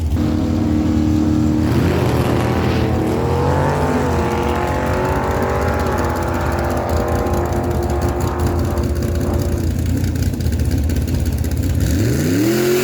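Drag race cars roar down the strip at Miramichi Dragway, a loud sustained engine blare with rising pitch as they accelerate, fading and then building again with another engine at the end.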